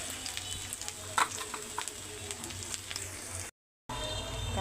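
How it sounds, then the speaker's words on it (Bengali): Chopped garlic and onion sizzle in hot oil while tempering leafy greens, a continuous crackling fry with a few sharp spatula clicks and a brief silent gap near the end. "এখন শাক বাগার দেওয়া হবে। দিয়ে দিলাম রসুন কুচি, তারপরে হচ্ছে পেঁয়াজ কুচি,"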